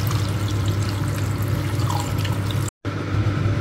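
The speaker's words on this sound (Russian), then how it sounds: "Заливаем овощным бульоном." Vegetable broth poured into a pot of sautéed vegetables, pumpkin and potato for pumpkin soup, a steady close liquid splash and gurgle with a brief gap near the end, no talking.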